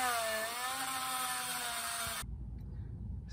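A small brass wire wheel on a power tool scrubs rust in the engine bay of an E30, a steady high whirring grind that runs loud and close for about two seconds, then cuts off and leaves a low rumbling tail.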